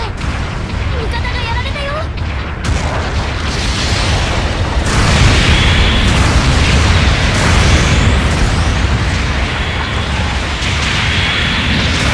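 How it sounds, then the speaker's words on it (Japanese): Support artillery rains down in Gundam Battle Operation 2 as a loud, continuous barrage of booms and bursts rolls on for over ten seconds, with a voice speaking briefly over the opening. "支援砲撃の効果あったみたい"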